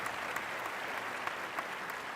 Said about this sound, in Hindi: एक बार जोरदार तालियां अनिल कपूर सर के लिए.